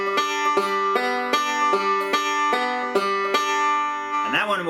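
Banjo picking a basic open forward-reverse roll, with bright plucked notes repeating in a steady, even rhythm and ringing sustain, played alone up close before a short sliding pitch bend at the end.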